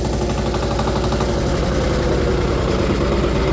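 A heavy tractor with front-wheel drive chugs steadily and loudly up close while driving, a constant low throbbing drone with no pauses and no talking.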